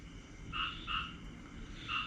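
Frogs croak in short paired calls, a few bursts spaced across a quiet background hum, moderately close and with no voices.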